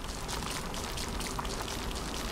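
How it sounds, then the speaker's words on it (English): Steady, dense rainfall in the sci-fi base-building game The Riftbreaker, a continuous even hiss of drops pattering on surfaces at moderate level, with no voices. "This rain is harmless to our base, but it decreases solar panel efficiency until it stops."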